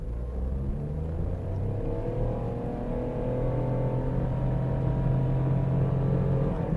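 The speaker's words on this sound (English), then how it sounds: "Right, here we go from a standstill." A 2015 Nissan Micra with an automatic gearbox pulls away from a standstill. The engine gives a steady low rumble and hum that slowly climbs in pitch as it accelerates, with no talk over it.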